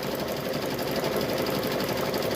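A sewing machine runs steadily while stitching a quilted handbag, a close, continuous mechanical whir with a rapid rhythmic needle beat and no voices.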